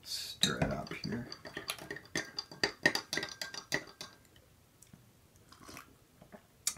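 A spoon clinks and taps in a cup of grapefruit drink from a British military ration pack, a quick run of light, close metallic knocks that thin out toward the end, with a faint voice underneath.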